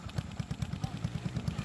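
A trail motorcycle's small engine putters with a rapid, even thumping beat at moderate distance, steady throughout the short stretch with a faint background hiss and no speech.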